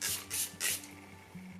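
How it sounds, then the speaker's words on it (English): Makeup setting spray misted onto a face in three quick hissing bursts, close and fairly soft, with a faint steady hum underneath. "we're just going to be spraying it with our setting spray"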